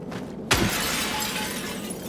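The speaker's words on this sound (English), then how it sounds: "I kind of want to smash this just to see how they react to sound." Glass object smashed in the Silent Hill 2 Remake video game: one sharp, loud shattering crash, followed by a steady ambient wash with no talking.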